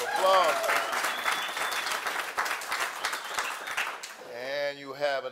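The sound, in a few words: crowd applause at campaign rally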